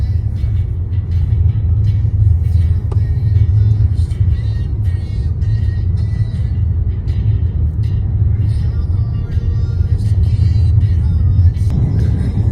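A 2026 Toyota RAV4 on a test track approaching the oval: a steady, loud, low engine and road rumble inside the cabin, unbroken across the stretch.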